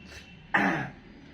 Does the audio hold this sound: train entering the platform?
no